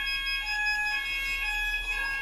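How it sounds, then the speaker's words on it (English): Fire alarm sounders from a C-Tec CFP series panel, set off by a call point test, ring a steady, continuous high electronic alarm tone that holds loud and unbroken throughout. "To test the call point, press the button and the alarm should sound."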